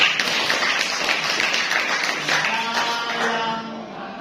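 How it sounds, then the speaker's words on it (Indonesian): A high school class claps together in a classroom, a busy patter of many hands that thins out near the end as a faint voice and other room sounds come through. "Nah, tepuk tangan."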